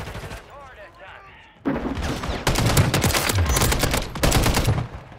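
Rapid bursts of shotgun fire in a first-person shooter game crack out loud and close, overlapping in dense volleys after a quieter opening, while players talk over the shooting.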